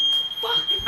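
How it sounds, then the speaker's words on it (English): A smoke alarm set off by burning pancakes gives a loud, piercing, continuous high electronic tone. A brief voice and a clatter of movement sound beneath it. "Here I'm burning the pancakes, setting the fire alarm off."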